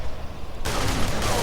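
Gunfire in the video game Duke Nukem Forever: after a brief low rumble, a dense, loud burst of rapid shots erupts and keeps rattling steadily to the end.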